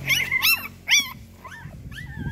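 A dog makes low, rough growling and whiny vocal sounds, said to sound like a wild dog, in a few close bursts over about two seconds with no talk.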